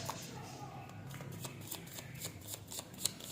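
Tarot cards being shuffled by hand, a close series of quick riffling flicks and soft card slaps with faint background noise.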